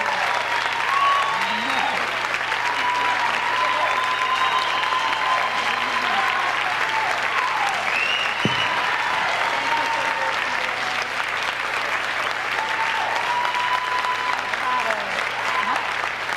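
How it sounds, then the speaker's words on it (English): Sustained applause from an audience at an award presentation during a Swingtime dance event, a steady even roar of clapping that holds for the whole stretch, with faint voices and a whistle-like tone drifting beneath it. "Please give a round of applause to Jack and Annie."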